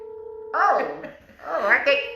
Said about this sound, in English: who's ringing the phone right now?